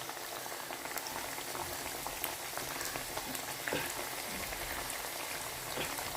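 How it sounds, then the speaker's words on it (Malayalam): Potatoes fry in hot oil, making a dense, steady bubbling crackle that stays even and fairly quiet from start to end. "ഒക്കെ ഇതുപോലെ പൊരിച്ചെടുക്കുക."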